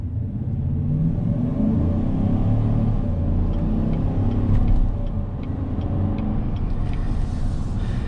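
A 2021 GMC Sierra 1500 Elevation pickup with the preferred and off-road packages drives along, giving a steady, muffled low rumble of engine and road noise heard from inside the cab.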